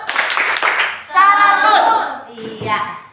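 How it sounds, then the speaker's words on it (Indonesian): Children in a classroom clap a quick salute for a classmate named Rivaldi, with a burst of sharp claps followed by chanting young voices. "Kita kasih tepuk salut buat Rivaldi."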